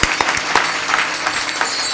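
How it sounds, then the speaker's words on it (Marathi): A crowd claps hands together, giving a steady, fairly loud patter of overlapping claps with sharper individual smacks standing out every fraction of a second. "फक्त टाळी वाजवा"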